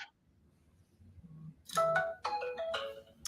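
Phone notification chime rings out as a short sequence of bright melodic tones, fairly close in a quiet room after a low murmur.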